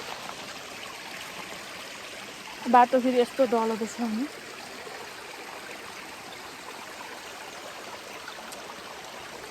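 A mountain stream in the Lamjung hills of Nepal rushes steadily along a trail, an even, moderately loud wash that runs under a short burst of talk near the middle.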